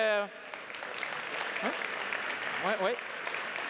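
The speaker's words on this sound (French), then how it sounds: "J'aimerais ça qu'on les applaudisse aussi" Applause from a conference audience honoring long-time agile practitioners, a soft, distant patter of clapping under a speaking voice that rises and falls over it.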